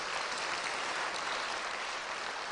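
Crowd applause fills a hall at a school public speaking competition finale, a thick, even roar of many hands clapping at once, loud and unbroken for a couple of seconds.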